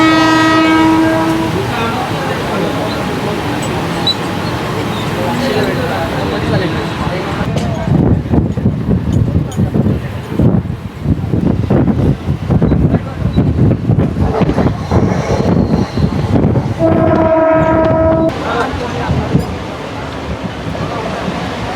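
A 12-car CSMT–Panvel Mumbai harbour-line local train pulls into Khandeshwar station with loud horn blasts at the start and end, rumbling wheels, clattering rails and microphone wind noise in between.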